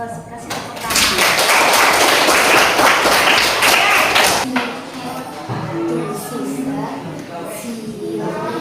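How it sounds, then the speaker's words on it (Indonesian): Clapping from a school audience of young students, a dense burst of many hands lasting several seconds, then tapering off as a voice continues speaking. "kasih tepuk tangan."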